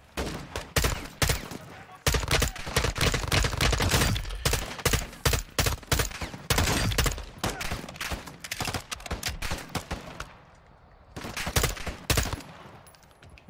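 Gunfire in the video game Call of Duty: Modern Warfare II: loud, close bursts of rapid automatic fire crackle almost continuously, with a short lull before the shooting resumes.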